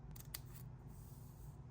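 Scissors snip through fabric for a cross stitch button in one or two quick, close, quiet cuts against near silence.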